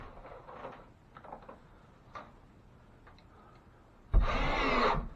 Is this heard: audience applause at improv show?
no